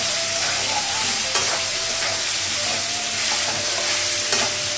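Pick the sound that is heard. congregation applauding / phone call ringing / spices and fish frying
spices and fish frying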